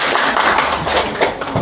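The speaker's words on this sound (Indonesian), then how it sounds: "Tepuk tangan lagi buat saya." Classroom applause from students in a junior high school lesson, a short burst of uneven clapping heard up close.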